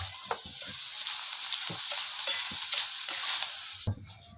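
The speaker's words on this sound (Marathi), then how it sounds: "तेलच चांगलं तापलेलं आहे ना त्यामुळं पटापटा का नाही पोहे आपले हे भाजून निघणार आहेत" Poha flakes frying in hot oil, giving a steady bright sizzle with occasional soft stirring knocks and scrapes from a utensil, close and moderately quiet.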